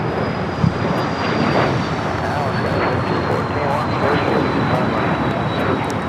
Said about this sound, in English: This is a Cessna Citation CJ3 going to the most magical place in the world.